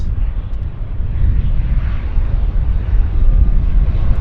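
Jet airliner fitted with MD-80/DC-9 style thrust reverser buckets, its engines giving a loud, steady low roar with wind rumble throughout, heard outdoors at an airport.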